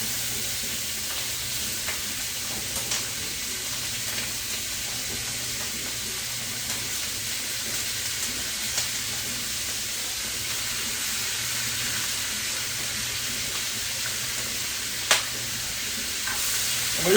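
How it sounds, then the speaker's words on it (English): Peppers and onions sauté in olive oil and butter, giving a steady, moderately loud sizzle that runs without a break, with occasional soft scrapes of stirring and a few small pops. No one speaks. "Now we add in the peppers and onions"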